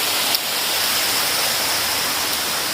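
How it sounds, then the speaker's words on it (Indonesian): A steady, even rush of flowing water from a river beside the first tier of a village waterfall running low after a dry spell, with a constant broad roar and no voices. "Nah itu sungainya."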